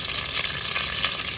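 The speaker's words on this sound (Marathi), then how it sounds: "आता फोडणीला कढीपत्त्याची पानं घालूया।" Curry leaves hitting about two tablespoons of hot oil in a pan on a wood-fired stove for a tempering, giving a loud, steady, dense crackling sizzle throughout with no talking.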